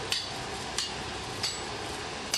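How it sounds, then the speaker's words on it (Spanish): Hammers strike red-hot iron on an anvil during blacksmith forging, four evenly spaced sharp metallic blows about two-thirds of a second apart, ringing over a steady background hiss. "A continuación se le lleva hacia el yunque y con una serie de martillos le propinan golpes"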